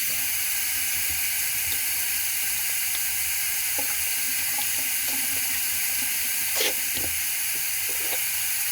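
Hands being washed under a running sink tap, a steady loud hiss of flowing water with small splashes and rubbing, close up and without talk.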